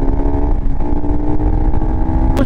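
A KTM RC 200 motorcycle accelerates with a steady, loud engine drone and rising tone on a rough road under construction, close to the microphone, with no talking.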